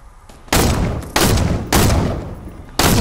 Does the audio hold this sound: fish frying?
no